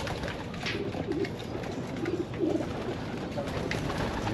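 Racing pigeons coo in a loft in the Philippines, with soft, low, repeated coos from several birds rising over a steady background hum and faint voices.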